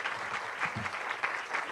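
Audience applause fills a hall during Michigan Governor Whitmer's address on the state budget: a steady, dense wash of clapping from a crowd, continuous and moderately loud throughout, with no speech over it.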